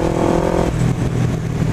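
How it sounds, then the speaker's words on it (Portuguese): A Honda CB500 motorcycle with twin exhausts idles loudly and close, its engine note dropping and rumbling steadily after a brief rev. "Ronco dos dois canecos"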